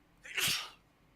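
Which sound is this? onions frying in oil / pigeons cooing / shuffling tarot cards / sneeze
sneeze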